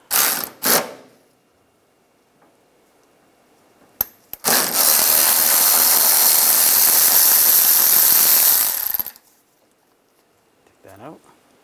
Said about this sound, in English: we're going to use a 12mm socket. Take this bolt out up front.